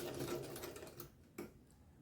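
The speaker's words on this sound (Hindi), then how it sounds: "बेल्ट जुड़ जाने के बाद हमें कुछ इस तरह से सिलाई लगानी है।" A sewing machine runs, stitching a waistband belt onto Afghani-style pants. The steady whirring stitch is fairly close and carries on for about a second, then stops, leaving a brief click and quiet.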